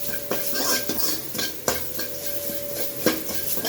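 Ground spice paste sautéing in oil in a pan for tomato rasam, a steady sizzle with repeated scraping and stirring clinks of a utensil against the pan, close and alone.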